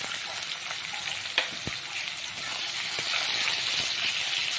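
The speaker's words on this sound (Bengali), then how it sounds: "পেঁয়াজটা দিয়ে একটু ভাজা হতে" Chopped onion frying in hot oil tempered with cumin seeds and spices, a soft, continuous sizzle close by with a few sharp clicks of stirring, no talking.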